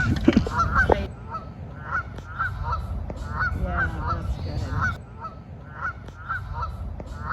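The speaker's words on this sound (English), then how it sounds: "Do you know why geese honk while they're flying" Geese honk repeatedly in a steady, rhythmic series over a constant low rumble, with a brief spoken remark near the start.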